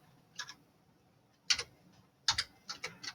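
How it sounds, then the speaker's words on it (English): Keys on a computer keyboard being pressed to enter a number: a few separate clicks and short clusters of keystrokes with pauses between them, close and fairly quiet. "Now I type the number"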